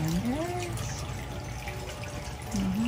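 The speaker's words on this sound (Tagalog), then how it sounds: "Habang naririnig niyo, tunog ng tubig sa fountain." Water from a garden fountain trickles and splashes steadily during an evening garden tour, a continuous close wash of sound with a faint voice-like tone drifting in briefly.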